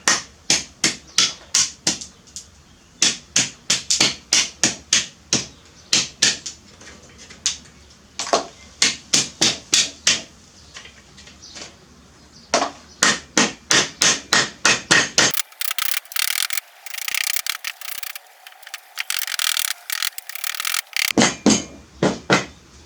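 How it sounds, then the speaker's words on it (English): Sharp repeated hammer blows strike in quick bursts of taps, close and loud, then a stretch of harsh rasping before the tapping resumes. "Now that I cut all this with this hammer,"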